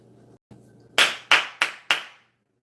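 Four sharp hand claps in a quick, slightly uneven sequence, close and loud, following a couple of fainter taps; no one talks over them.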